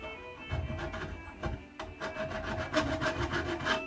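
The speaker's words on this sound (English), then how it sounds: "So I'm just going to gently file these fret ends here." A metal file rasping across the fret ends of a vintage Lickety Split banjo, close-up scraping strokes in an irregular rhythm, quiet and without talk.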